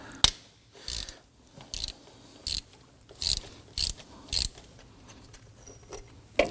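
A ratchet with a 10mm socket on an extension loosens the AC compressor bolts on a Volvo XC90, giving about eight short, sharp bursts of clicking at a steady working rhythm, close by with a quiet background between strokes.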